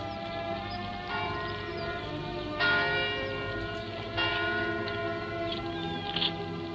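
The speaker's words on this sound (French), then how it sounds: "L'Angélus qui sonne à Rouen." The Angelus rings from the church bells of Rouen in a long, sustained wash of tolling, with fresh strikes roughly every one to two seconds over a steady resonant hum, loud and alone without talk.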